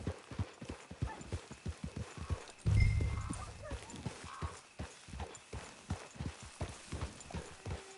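Steady, close hoofbeats of a horse walking in a video game, a regular clip-clop rhythm with a brief low rumble and a whinny midway.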